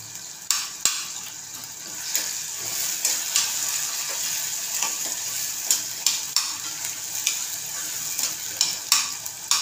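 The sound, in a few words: homemade masala paste sautéing in oil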